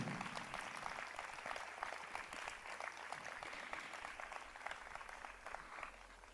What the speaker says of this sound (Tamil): அவளுக்கு ஒரு பெரிய கைத்தட்டல் கொடுக்கலாம்.